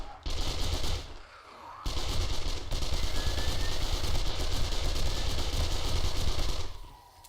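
Sustained automatic gunfire in a video game, a loud dense rattling that runs almost continuously with a short lull near the start, close and with no talking over it.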